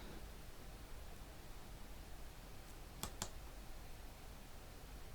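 Two sharp mouse clicks land close together about midway, faint against a steady background hiss while a slicer is selected in an Excel pivot table.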